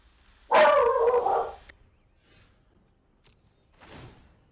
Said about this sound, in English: He keeps barking at something in the other room